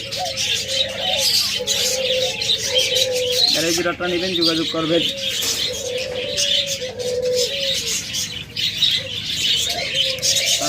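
Several caged budgerigars, cockatiels and lovebirds chirp and coo steadily throughout, with someone talking over them for much of the time.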